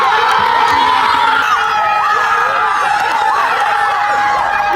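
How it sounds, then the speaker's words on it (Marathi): A crowd of boys cheering and shouting in celebration at a village cricket tournament after reaching the semi-final, loud, continuous and close, with overlapping excited voices throughout. "जल्लोष बघा आपल्या पोरांचा"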